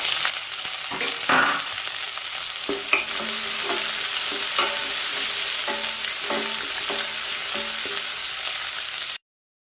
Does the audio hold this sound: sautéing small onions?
yes